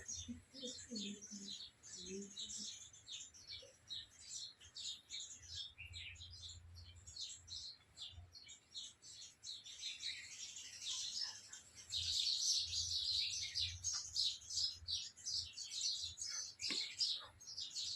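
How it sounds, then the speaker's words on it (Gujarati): A bulbul gives repeated high chirps and twittering calls outdoors, moderately close but fairly quiet, with a faint low hum underneath and no clear speech. "જો કેવો મસ્ત બેઠો બુલબુલ."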